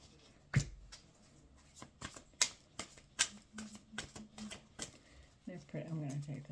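Goddess Tarot cards shuffled by hand, soft papery flicks and taps in a loose, irregular series, close and quiet, with a low voice murmuring near the end.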